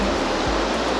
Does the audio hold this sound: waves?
yes